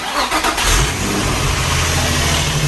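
A junkyard Nissan car engine turns over and catches, then runs loud and steady with a low rumbling idle, close by.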